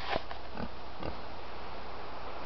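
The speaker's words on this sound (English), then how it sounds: "these pigs stink, and they're biting each other" Pigs in a pen grunt and oink a few times close by in the first second, then fall quiet to a faint steady background hiss.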